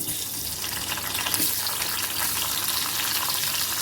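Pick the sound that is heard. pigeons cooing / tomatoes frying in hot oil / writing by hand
tomatoes frying in hot oil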